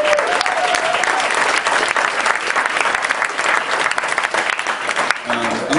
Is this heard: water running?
no